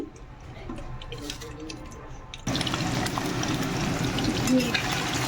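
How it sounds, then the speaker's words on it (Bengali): Ghee hits hot oil in a pan for fried rice, starting as a faint crackle under a voice and then jumping into a loud, steady sizzle that continues to the end. "ফ্রাইড রাইস বানানোর জন্য তেল গরম করলাম, এর মধ্যে দিয়ে দেবো ঘি"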